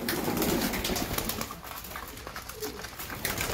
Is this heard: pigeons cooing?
yes